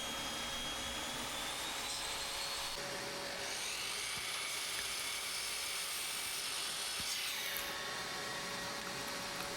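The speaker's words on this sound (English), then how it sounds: "Just at the miter saw now. I'm just cutting some angles." A miter saw cuts angles in wood, with a continuous high-pitched whine and a broad hiss, loud and unbroken for the whole stretch, with no voices.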